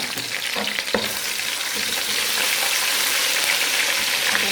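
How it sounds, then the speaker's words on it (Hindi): Garlic and ginger paste hitting hot oil with lightly browned onions in a pan, a bright steady sizzle with a few stirring scrapes early on, close and continuous. "अब मैं इसमें डालूँगी लहसुन और अदरक का पेस्ट"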